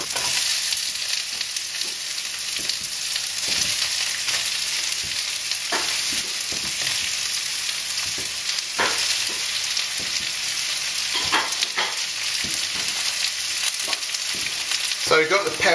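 Peppers and shallot fry in a pan with a steady, close sizzle, crackling and popping continuously, with occasional clinks and scrapes of stirring.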